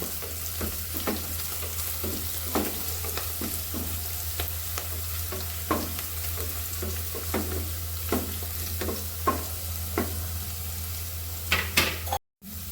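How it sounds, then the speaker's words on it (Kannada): Fenugreek leaves frying in a pan for vegetable pulao, with a continuous sizzle and a steady run of sharp spoon scrapes and clinks against the pan, close and fairly loud, without talk. "ಮೆಂತ್ಯ ಸೊಪ್ಪು ಫ್ರೈ ಆಗಿದೆ ಈಗ ತರಕಾರಿ ಎಲ್ಲ ಹಾಕೊತಾ ಇದ್ದೀನಿ"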